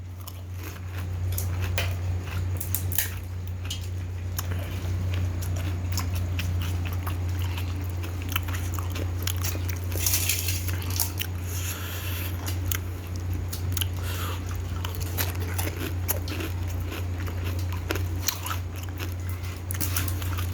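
Crunchy gupchup (pani puri) shells bitten and chewed up close, a run of sharp crackling crunches over about twenty seconds with a steady low hum underneath and no talking.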